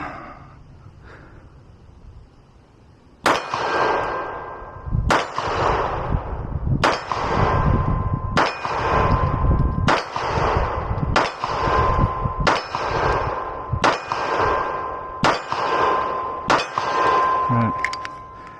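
Ten evenly spaced pistol shots from a Taran Tactical JW4 Pit Viper crack out at an outdoor range. Each is followed a moment later by a ringing metallic clang from a steel silhouette about fifty feet away.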